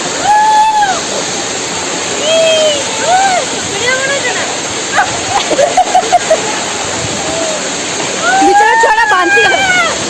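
A waterfall rushes in a steady broadband roar behind loud, excited voices of friends talking and calling out over it, with the water's noise continuous and fairly close throughout.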